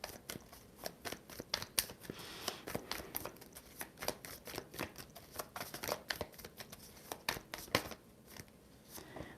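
Tarot cards are shuffled and drawn by hand in quick, irregular bursts of crisp riffling and slapping, close and fairly quiet, with no talking.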